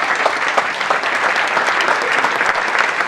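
Audience applause fills a conference hall, dense and steady clapping from a large crowd, loud and close throughout without a break.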